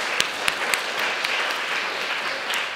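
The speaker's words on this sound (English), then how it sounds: "give yourselves a great big round of applause" A conference audience gives a big round of applause. Many hands clap steadily at moderate loudness, with a few sharper individual claps standing out near the start.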